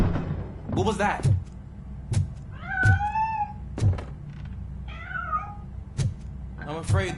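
A cat in the Robocop Rogue City video game meows several times, its rising and falling cries spaced between regular heavy thuds, like metallic footsteps, over a quiet background hum.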